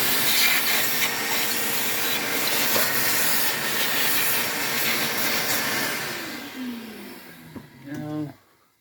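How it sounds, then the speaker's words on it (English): Shop vacuum cleaning out a Grizzly G0889 planer after a knife change, a loud steady roaring hiss that winds down and cuts off near the end. "Now I'll take my vacuum."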